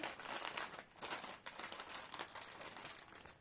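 A thin plastic zip bag crinkles and rustles close by in quick, irregular bursts as vegetable seeds are packed, fairly quiet, with no voices.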